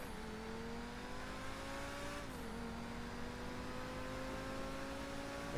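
A car in Grand Theft Auto 5 races with a steady, droning engine note, and the pitch dips briefly midway as the car shifts or lifts off before it holds steady again.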